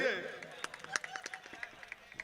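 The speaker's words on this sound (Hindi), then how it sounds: "एक मरतबा तालियां बजा दोस्तों मेरे लिए" An audience at a Chhatrapati Shivaji Maharaj evening event in Muktainagar gives scattered, uneven claps after a short burst of a voice, fairly close and thin rather than a full roar.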